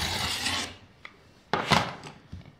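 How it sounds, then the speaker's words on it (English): Cutter drawn along a ruler to trim fabric for a quilt block: a scratchy rasp up front, then a few separate short scraping strokes and taps, close up, no talking. "I'm going to do a trim."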